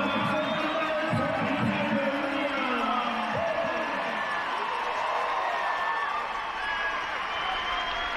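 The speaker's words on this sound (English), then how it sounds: "The loudest cheer of the night, Liam Bowman." Stadium crowd roars and cheers as a rugby sevens player breaks away for a 90-metre try in Toronto, loud and sustained throughout, with a commentator's voice woven into the noise.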